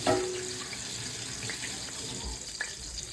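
Hands being washed under a running kitchen faucet during a fish-fry cook, a steady moderate stream of water splashing into the sink with faint shifting splashes as the hands move.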